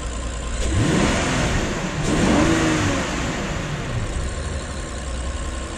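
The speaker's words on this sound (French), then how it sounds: "voici ce qui arrive lorsqu'on démarre le moteur avec un verre d'eau dessus et qu'on le fait gronder" A Rolls-Royce Cullinan SUV engine turns over and revs up twice in rising surges, settling back to a steady rumbling idle, close by with no talking.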